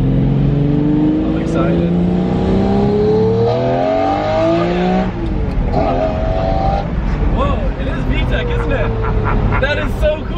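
A car engine with a cam-chain variable valve setup revs hard in several rising bursts, loud and close, its pitch climbing and dropping repeatedly while people talk and exclaim over it.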